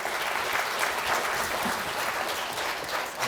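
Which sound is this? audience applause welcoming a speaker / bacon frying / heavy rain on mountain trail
audience applause welcoming a speaker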